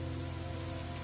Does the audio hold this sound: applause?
no